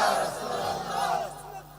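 A large crowd at a Bengali religious gathering shouts loudly in unison back at a preacher, a sustained roar of voices lasting under two seconds.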